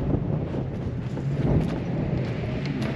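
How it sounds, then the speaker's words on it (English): Wind buffets a microphone outdoors by a tent at an off-road desert event, a steady low rumbling roar that stays loud throughout with no speech. "get away from that wind, which is great."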